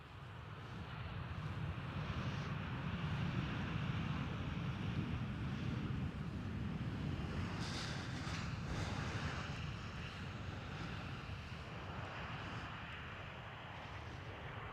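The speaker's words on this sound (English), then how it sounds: "Next one up, KLM 737." KLM Boeing 737 passing at Amsterdam Schiphol, a steady broad jet roar that stays loud throughout with wind noise buffeting the microphone and no talking.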